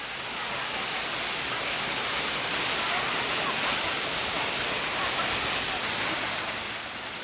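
Jeongbang Falls on Jeju, a waterfall dropping onto the seashore, gives a steady, dense roar of rushing water that holds unbroken and fairly distant throughout, with no voices.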